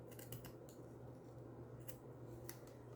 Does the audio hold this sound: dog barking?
no